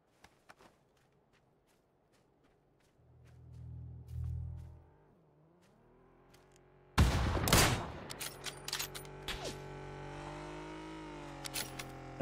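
Sharp sniper rifle shots in PUBG, quiet isolated cracks early on followed by a loud close impact burst and scattered sharp reports, with movement sounds between them.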